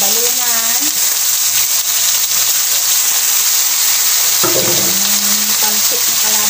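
Pancit noodles frying in cooking oil, a loud continuous sizzle up close, with a voice speaking over it at the start and again midway.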